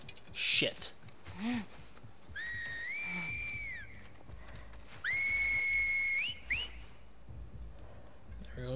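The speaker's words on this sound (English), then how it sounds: "Here goes the whistle." Scars in The Last of Us Part II trade clear whistle signals, two long, steady, tonal calls with rising onsets, set among scattered short cries, footsteps and game ambience.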